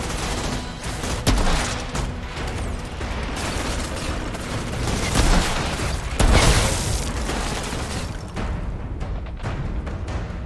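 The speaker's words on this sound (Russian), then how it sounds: "стрельба в игре крайне приятная" Gunfire from the video game Outriders: rapid bursts of shots and heavy impacts crackle continuously, with several louder booming blasts, loud and up close with no talk.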